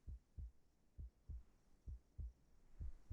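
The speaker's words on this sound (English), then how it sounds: "A heartbeat. Right outside the door." A heartbeat sound effect from the game Reverse 1999 thumps in steady paired beats, about seven deep muffled pulses, quiet and low with nothing else over it.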